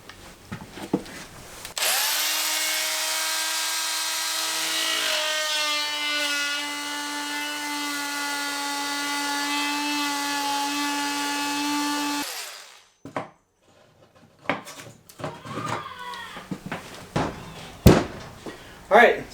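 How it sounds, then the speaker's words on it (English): An oscillating cutoff tool with a carbide-tipped blade cuts through a kitchen cabinet in a mobile home remodel, giving a loud steady buzzing drone for about ten seconds, followed by knocks and handling clatter. "I'm going to go ahead and use my oscillating cutoff tool and my carbide tip blade to make this pretty quick cut"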